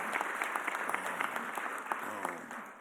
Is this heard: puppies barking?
no